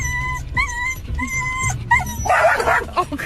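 A dog barks and yips in short, sharp bursts, near and fairly loud, mixed with whimpering, all under music and a voice.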